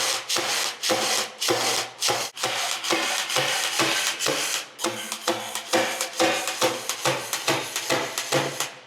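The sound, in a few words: cordless nailer firing pins into wood in continuous mode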